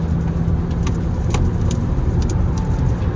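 A Mahindra XUV700 engine roars steadily at full throttle during a drag race against an Audi A4, a constant low rumble with road noise and faint rattles, no voices.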